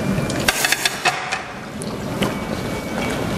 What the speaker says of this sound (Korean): 데쳐내신 다음에 시금치는 찬물에 헹궈주세요.